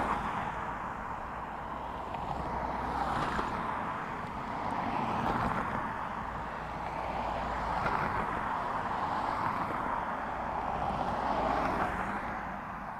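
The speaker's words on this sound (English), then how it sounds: "Ryanair from London Gatwick now. Just about to cross the threshold." A Ryanair airliner from London Gatwick crosses the threshold to land at Dublin Airport, its engines a steady, distant broadband roar that swells and eases gently throughout.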